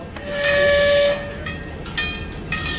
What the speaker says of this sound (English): So the caboose has a little whistle too. Well. Got a little air whistle.